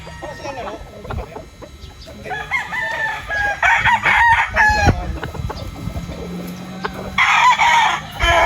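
A gamefowl rooster of the Banahaw Lights line crows repeatedly on a farm, with hens clucking nearby and faint talk in the background.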